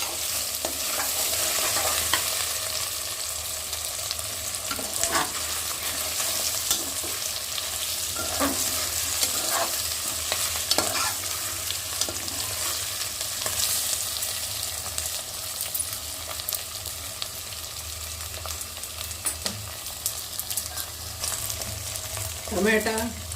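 Taro root curry ingredients fry in hot oil with a constant sizzle, while a spoon scrapes and stirs through the pan in repeated strokes, close and fairly loud.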